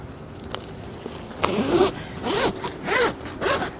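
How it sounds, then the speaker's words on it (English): Zipper on the stiff, thick fabric winter cover of a Greenstalk vertical planter being unzipped in a fall and winter garden, a series of close, rasping pulls with brief pauses between them. "you can actually just unzip it and access all parts of it without taking the entire cover off pretty easily"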